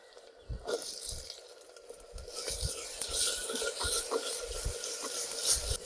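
Small onions sauté in a pan for drumstick-leaf biryani, a soft steady sizzle with scraping stirs of a spoon at an uneven rhythm, close and fairly quiet.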